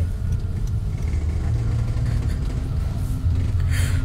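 A car engine idles in a stop-and-go traffic jam, a steady low rumble that holds throughout at close range with no talking.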